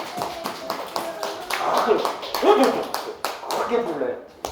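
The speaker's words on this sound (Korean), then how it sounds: "박수 한번 합시다. 김병호 어르신." A church gathering claps in honor of an elderly man named Kim Byeong-ho, with scattered sharp claps and taps mixed under a talking voice, moderately loud and uneven in rhythm.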